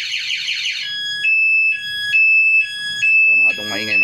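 An electronic motorcycle alarm on a Raider 150, set off by tampering with the lock, sounds in repeated pulsing bursts of high-pitched tones, loud and close, with a warbling siren at the start.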